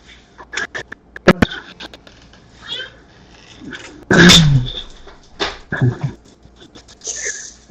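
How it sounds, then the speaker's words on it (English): A dog in the Rollercoaster Tycoon video game gives several short yelps and sniffs, with one louder burst midway and scattered clicks around it, while someone talks intermittently over the game audio. "Oh, there's the dog."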